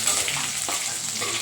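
Green chillies, garlic and ginger frying in a pan for malai methi paneer, a brief, steady sizzle up close with a faint stir and no talk.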